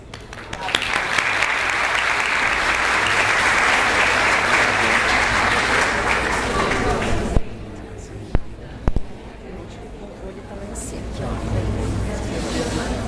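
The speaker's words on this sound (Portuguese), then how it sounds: "Vamos receber com uma salva de palmas" A large audience at a lecture applauds loudly and steadily for several seconds, then the clapping fades out, leaving a few stray sounds and quieter room noise.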